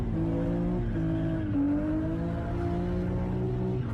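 A car drives hard and skids, with a steady engine drone and drawn-out tire squeals running the whole time, loud and close with no talking over it.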